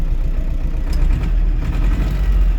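A T-25 tractor's engine runs loud and close, a steady low rumble with slight swells in pitch as it is throttled, heard alone with no talk over it.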